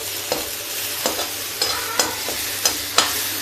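Tomatoes fry with a little turmeric in a pan, a soft steady sizzle punctuated by about six regular spatula scrapes, close and free of speech.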